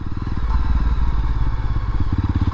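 A Yezdi Roadster motorcycle engine thumps steadily with a deep, regular low-frequency pulse while being ridden, loud and close throughout, with no talking.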